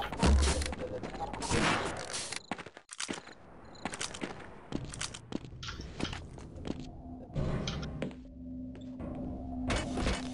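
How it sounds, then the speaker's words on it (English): A Tommy gun fires in a video game in repeated bursts of sharp cracks with brief gaps between them, over busy background game noise. "Wow, Tommy gun, eh?"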